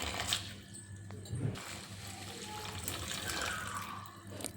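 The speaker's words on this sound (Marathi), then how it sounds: "पाण्याने आपल्याला धुवून घ्यायचे आहेत" Water runs steadily from a tap, splashing and trickling as mangoes are rinsed beneath it, heard up close and fairly quiet.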